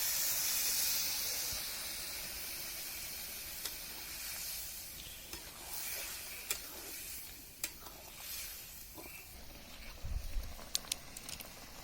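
Water poured into a hot pan of spicy pork curry sets off a hissing steam burst that fades to a soft simmering sizzle, with sporadic spoon clicks and scrapes, fairly quiet and close.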